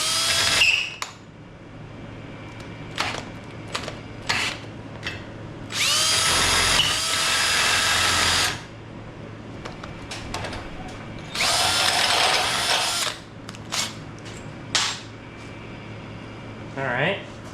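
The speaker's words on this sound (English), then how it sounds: "why don't you fucking drill?" A power drill runs during a front air suspension install on a 1936 Ford Roadster custom, in two loud, sustained bursts of several seconds each, plus short clicks and handling noises around them, with people talking in between.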